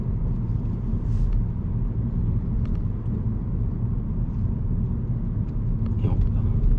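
Car engine accelerating gently during a driving lesson, a steady low rumbling drone inside the cabin that holds even throughout, with voices talking faintly over it.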